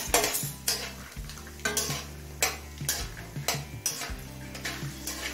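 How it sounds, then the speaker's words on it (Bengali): A handful of peanuts frying in hot mustard oil in a wok, with repeated metallic scrapes and clinks of a spatula stirring over a steady low sizzle. "তেল গরম হলে 1 মুঠো চিনি বাদাম ভেজে নেব"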